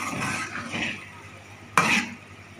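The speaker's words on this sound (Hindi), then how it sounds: "मिक्स करेंगे मसाले के साथ भिंडी को अच्छी तरीके से" Okra is stirred with spices and gram flour in a pan, with soft scraping stir strokes and a gentle sizzle, then one sharp close clank of the utensil against the pan near the end.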